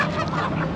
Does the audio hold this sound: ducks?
yes